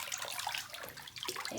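Bath bomb fizzing in bath water, a soft close crackle and hiss of bubbles, steady and faint with no voice over it.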